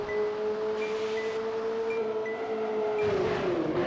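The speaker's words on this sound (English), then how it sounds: "you can just enjoy the sound of the robot engine" A synthetic car engine from the racing video game Touge Max 2 drones at a steady pitch, joined by a repeating high ding, then shifts tone near the end.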